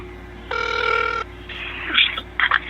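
A telephone rings on a call to a consumer care line, one ringing burst followed by muffled line noises and clicks, with no talk.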